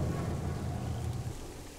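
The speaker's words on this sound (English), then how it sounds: "Rain, rain, go away" Rain in the Planet Zoo video game makes a short, dense wash of noise with a low rumbling undertone, steady at first and easing slightly toward the end, with no voices.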